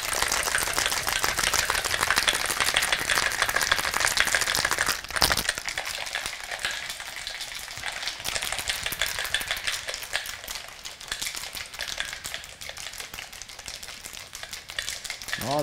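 Ice rattles hard inside a cocktail shaker during vigorous shaking of an almond whisky cocktail, a dense continuous clatter that holds steady throughout with no talking.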